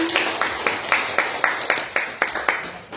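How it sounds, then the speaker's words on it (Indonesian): Steady rhythmic clapping at a school teacher-training session at SMP Negeri 1 Talangpadang, Tanggamus, about four sharp claps per second, fairly close and moderately loud, fading slightly toward the end. "Tepuk tangan dong untuk kita semua."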